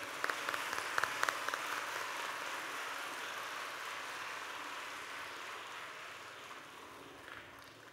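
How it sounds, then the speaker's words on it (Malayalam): A school audience applauds performer Arun Guinness at the 31st annual day celebration of Colony Public School and Junior College. The dense clapping has a few sharp claps near the start, then stays steady and moderately loud before thinning slightly toward the end. "വളർന്നു വരുന്ന കലാകാരനായ അരുൺ ഗിന്നസിനെ നമുക്ക് നല്ലൊരു കയ്യടിയോടുകൂടി അനുമോദനങ്ങൾ അറിയിക്കാം."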